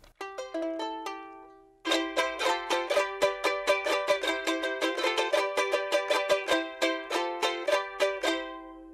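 A small bright jarana rings out with a few plucked notes, then launches into fast, lively rhythmic strumming, close and alone.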